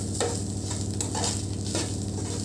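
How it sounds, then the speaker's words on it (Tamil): Grated coconut and cashews sautéing in a pan for a green pea kurma, a loud close sizzle with rhythmic spoon stirs and scrapes throughout, no talking. "கூடவே ஒரு 1/2 கப் தேங்காய் துருவல் போட்டு நல்லா வதக்கலாம்"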